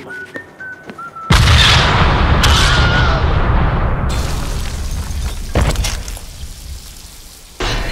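A loud C4 blast erupts in the Deadpool video game, a sudden booming explosion that rumbles and crackles for several seconds, with a second burst shortly after and debris-like clatter trailing off.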